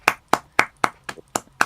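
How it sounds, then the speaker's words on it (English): Seven sharp, evenly spaced hand claps ring out close and clear, a steady rhythmic clapping of a few people with nothing else behind it. "Round of applause."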